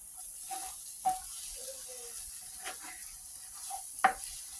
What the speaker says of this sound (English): I'm letting it get brown a little bit because this is the steak gravy.